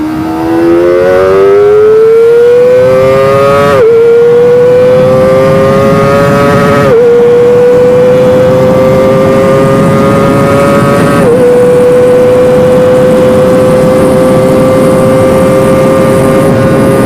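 A Kawasaki Ninja ZX25R motorcycle engine revs hard and loud up close, its whining pitch climbing through the gears with quick-shifter drops at several points before it settles into a high, sustained drone.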